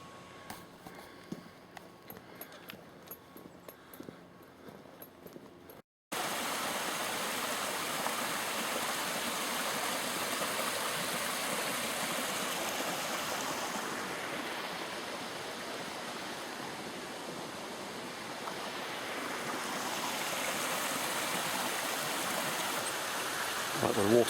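A flowing stream on Dartmoor, steady and close, with broadband rushing water filling the scene after a brief quieter start with faint rustling and footsteps.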